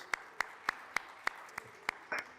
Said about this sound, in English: Just a small round of applause.